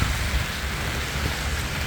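Steady rain falls outdoors along a park path in Busan where cherry blossoms are in bloom, a dense, even hiss that stays constant and close throughout, with no voices.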